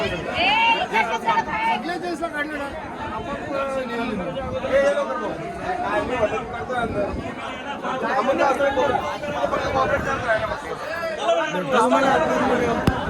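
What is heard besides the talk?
crowd chatter at a busy Mahashivratri gathering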